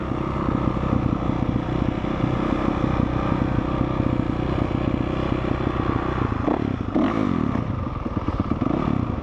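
Motorcycle named Redsky rides onto the Thunder Valley motocross track, its engine loud and steady and close by, with clattering and a brief scrape partway through.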